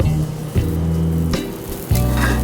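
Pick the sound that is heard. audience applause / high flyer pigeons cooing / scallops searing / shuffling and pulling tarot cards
scallops searing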